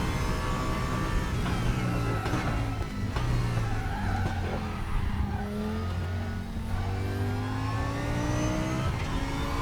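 An Audi GT3 race car in the RaceRoom racing game roars steadily, its engine note climbing through the revs and dropping at gear changes, with faint tire noise underneath and no talking.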